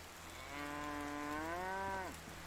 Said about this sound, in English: Your cow says hi.